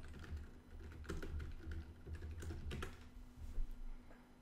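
Keys clatter on a computer keyboard in irregular bursts of close clicks and taps, steady for several seconds while a command for the Arch Linux reflector package is typed, with no talking.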